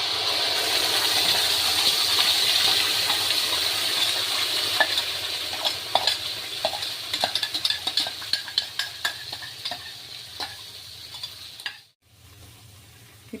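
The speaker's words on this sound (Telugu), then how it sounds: "ఇప్పుడు కడాయిలో బటర్ కానీ కొంచెం ఆయిల్ కానీ వేసుకున్నాక లైట్గా వేడయ్యాక మనం ప్రిపేర్ చేసి పెట్టుకున్న పేస్ట్ అయితే" Spice paste frying in butter or oil in a kadai, a steady close sizzle under stirring and spoon scrapes, with sharp clinks growing toward the end before a brief pause and a softer sizzle.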